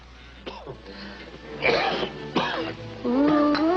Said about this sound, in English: That cough of yours stays with you like poor relation.